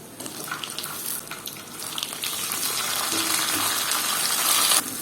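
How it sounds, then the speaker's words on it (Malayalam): Tomato dropped into hot oil in a pan while cooking a sardine kappa biryani, giving a steady loud sizzle and crackle that builds toward the end, with no talking. "ഇനി നമുക്ക് ഇതിലേക്ക് ഒരു തക്കാളി കൂടി ചേർത്ത് കൊടുക്കാം."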